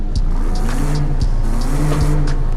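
A car with a sport exhaust in Forza Horizon 5 revs repeatedly, its engine note rising and dropping in several loud, close bursts over a few seconds, with no voices.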